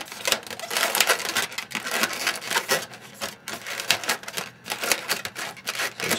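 Latex balloons are twisted into a six-petal flower, giving close, continuous squeaky rubbing and crinkling in uneven bursts, with no talking.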